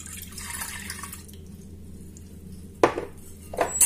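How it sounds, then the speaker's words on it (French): Milk pours steadily into a metal saucepan for about a second, then a quiet pause, followed by a couple of sharp clinks of kitchenware. "Je vais commencer par prendre une casserole. Je vais mettre mon lait."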